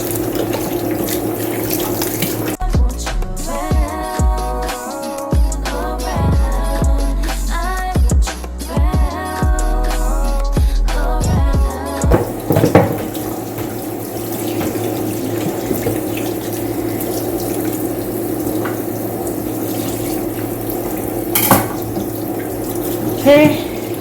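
Tap water runs into a sink while a raw turkey is rinsed, a continuous rushing splash with sloshing and handling knocks, loud and close, with someone speaking briefly over it.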